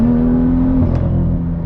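A straight-piped BMW M2 with an N55 engine holds a loud, steady droning rev, then the tone drops away as the throttle eases, heard from inside the car.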